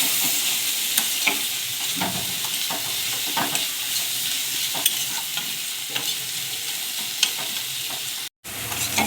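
Chopped onions sizzle steadily in a hot pan for a potato fry, with frequent stirring scrapes and clicks throughout and one very brief dropout near the end.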